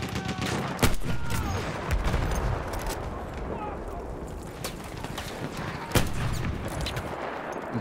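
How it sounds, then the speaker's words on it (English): Battlefield 1 combat gunfire, a loud relentless fusillade of rifle and machine-gun shots with a few heavy nearby blasts, continuous throughout under the chaos of the battlefield. "I'm being shot from everywhere"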